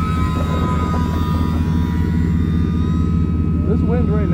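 Engine of a scratch-built snow plane with a 60-inch span running outdoors in the wind, a loud, steady droning tone with strong harmonics that holds throughout, with voices faintly underneath.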